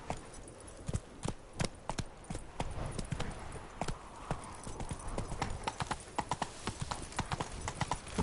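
Roach the horse galloping in The Witcher 3: rapid, steady hoofbeat clip-clops, fairly close and continuous, with faint background game ambience.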